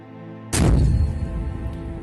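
An SPG-9 recoilless gun fires once in Ukraine war footage, a sudden sharp blast followed by a rumbling, ringing decay over a low background hum.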